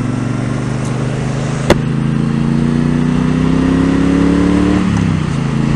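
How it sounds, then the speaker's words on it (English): A Triumph Bobber motorcycle engine drones loudly while riding, its pitch climbing steadily as it gains speed before easing off near the end, with one sharp click early on and steady wind noise. "Even the motor kind of sounds like it's more Harley related."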